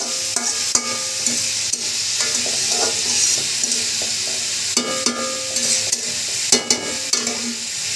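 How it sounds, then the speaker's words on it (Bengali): Bitter gourd frying with spices stirred in a pan, close sizzle under repeated sharp spatula clacks and scrapes in an uneven rhythm, loudest near the end, with no voices. "ভালো করে নেড়ে চেড়ে নিতে হবে যাতে মশলা চারদিকে যায়।"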